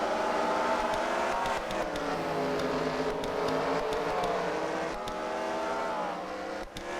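Slinger race cars at a CWRL Slinger Showdown team event roar around the track in a continuous loud engine drone, overlapping whines rising and falling as the cars run in traffic together.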